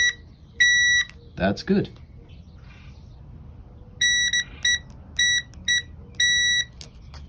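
A multimeter on continuity setting beeps while testing switches in a 1960s Electra King electric car, sounding first one long tone, then a run of short and medium beeps with gaps, alongside a brief clatter and someone speaking briefly.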